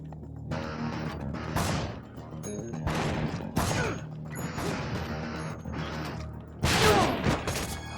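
Gunshots and impacts in Dead Rising during a fight at Willamette Parkview Mall, sharp bursts and clattering hits arriving irregularly over a steady game background.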